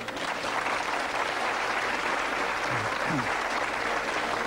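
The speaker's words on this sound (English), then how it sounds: "That deserves a round of applause." A TV studio audience breaks into applause on a mentalism show, a steady wash of clapping from many hands held at an even level throughout, with a faint brief tonal sound partway through.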